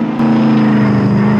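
A Lamborghini engine in the Roblox Jailbreak video game holds a loud, steady drone with a pronounced hum, close and continuous with no talking.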